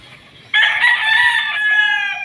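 A gamefowl rooster in a chicken pen gives one loud, close crow that starts abruptly and holds for nearly two seconds, with faint background noise before it.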